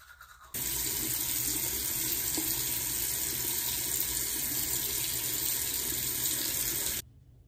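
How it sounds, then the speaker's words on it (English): Tap water runs steadily into a sink at close range for several seconds while someone brushes their teeth, the flow starting and stopping abruptly, with no talking. "I'm also gonna brush my teeth."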